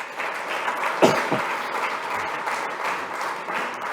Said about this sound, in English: You got applauded and you didn't even do anything yet.